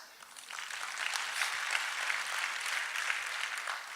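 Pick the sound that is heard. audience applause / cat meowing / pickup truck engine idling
audience applause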